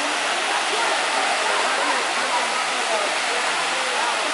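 David's Fall waterfall in the En Gedi Nature Reserve, a steady dense rush of falling water heard up close, loud and unbroken from start to finish.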